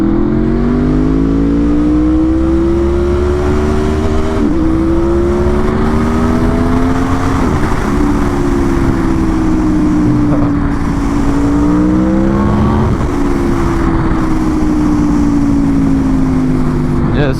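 Aprilia RSV4 motorcycle accelerating hard on a street, a loud close engine note climbing through repeated gear changes, with wind rush throughout and some talk underneath.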